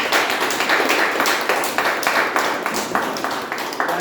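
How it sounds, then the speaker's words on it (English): A small group at a Toastmasters meeting claps in quick, uneven rhythm, individual hand claps audible and close, continuing steadily throughout. "With an enormous round of applause"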